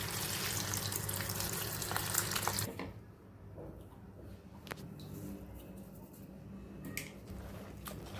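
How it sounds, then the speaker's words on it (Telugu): Running water from a tap poured over cauliflower florets in a home kitchen, a steady loud splashing stream for under three seconds that then stops, leaving quiet room noise with small knocks. "మనం కాలీఫ్లవర్లో ముందుగా వాటర్ పోసుకొని కొంచెం ఉప్పు వేసుకోవాలండి"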